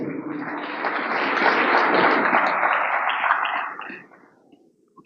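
Applause from an audience at a business roundtable on technical talent development rises into a steady, dense clatter, holds for about four seconds, then dies away to near silence.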